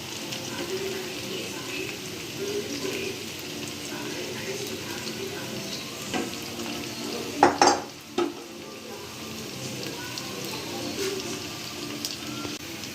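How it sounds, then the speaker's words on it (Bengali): Whole garam masala and onions fry in a pan with a steady, fairly quiet sizzle, a couple of louder clanks and stirring scrapes midway, and people talking softly over it. "এবং এর মধ্যে পেঁয়াজের মধ্যে গোটা গরম মশলাগুলো দিয়ে দিব।"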